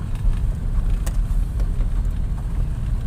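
A Jaguar 420 engine rumbles low and steady while a first-time learner driver shifts gears and the revs sag toward idle, a constant close drone with no talking.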